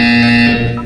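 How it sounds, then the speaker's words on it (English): A loud, steady electronic buzzer tone in the Portal 2 video game sounds for under a second, a harsh sustained drone with no talk. "You will hear a buzzer."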